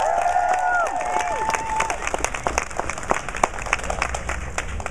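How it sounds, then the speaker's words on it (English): A crowd at an outdoor farm animal walk event in San Francisco applauds and cheers, a dense, continuous wash of clapping with scattered whoops, while a high whistle-like tone sounds near the start. "a big round of applause for Bob."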